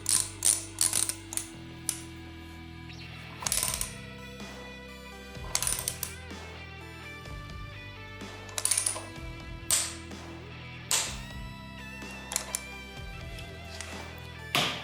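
A torque wrench tightens the retaining bolt on a Harley-Davidson Softail Street Bob front brake disc to 34 Nm. It gives close, crisp ratcheting clicks in several short bursts separated by brief pauses, with no talking over it.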